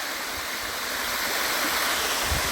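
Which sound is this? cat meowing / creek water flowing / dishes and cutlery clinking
creek water flowing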